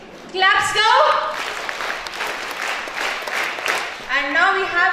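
An audience at a school science day event claps for a team, with steady applause that swells and then thins, while a voice speaks over it at the start and end.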